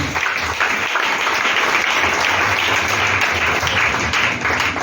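A church congregation applauding together, a dense, steady wash of clapping that fills the space at even loudness from start to finish, with no voice heard.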